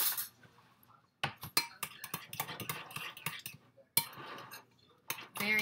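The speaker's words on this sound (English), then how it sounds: "Give that a quick stir." Spoon stirring oregano, thyme and basil into lasagna sauce in a pot, giving a run of close, quick clinks and scrapes of utensil on cookware with brief pauses.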